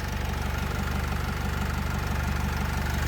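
A 2013 Opel Vivaro passenger van with a 2.0-litre 115 hp engine idling close by, giving a steady, even low rumble with a regular pulsing beat and no revving.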